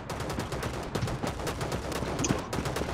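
Rapid gunfire in an online shooter game, a dense continuous crackle of shots with sharper bursts throughout, moderately loud and steady with no clear talk over it.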